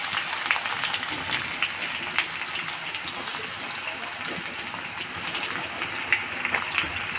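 Chopped onions frying in oil with bay leaf, cardamom, cinnamon, cloves and dried chillies for masala chicken, producing a dense, even hiss and crackle with faint scattered pops, close by, without talking.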